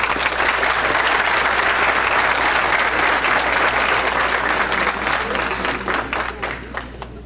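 An audience at a lecture on the mathematics of general relativity gives the professor a sustained round of applause. The clapping is steady and full, then thins into scattered claps at the end, with faint crowd murmur underneath.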